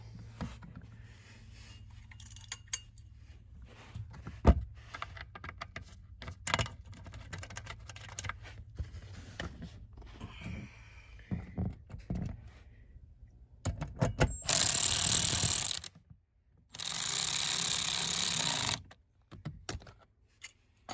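An electric ratchet drives dash bolts on a 2014 Ford F150 during dash removal, with two sustained whirring bursts up close amid scattered clicks and handling knocks from trim work.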